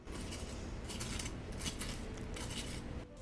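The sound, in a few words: knife cutting crispy pie crust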